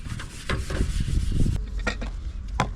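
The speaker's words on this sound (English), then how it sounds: "I'm going to give it a quick scuff with my red Scotch Brite" A red Scotch-Brite pad scuffs a chrome test panel ahead of clear coat, giving a close, dense abrasive rubbing that runs steadily with a few sharper scrapes and no talk.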